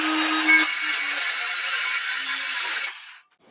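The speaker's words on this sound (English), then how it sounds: "So we're just going to cut that now." Wood being cut for a simple DIY workbench with a power saw: a steady, loud, close whine-and-rasp running for about three seconds before stopping abruptly.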